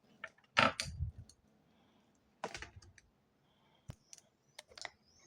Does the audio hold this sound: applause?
no